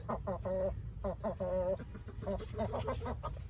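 Chickens cluck in short repeated bursts with a drawn-out squawk among them, close by, over a low background hum.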